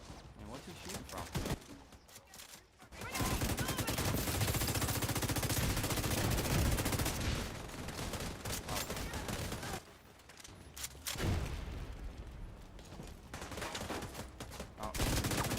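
Automatic weapon fire from an enemy shooter in The Division 2 rattles in long, dense bursts with brief pauses between them, steady and fairly loud, while players talk over the shooting.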